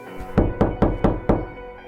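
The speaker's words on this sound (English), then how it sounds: "when there was a knock at the door" Five firm knocks on a door in a quick, even rhythm, loud and close, with a short resonant thud after each and quiet once they stop.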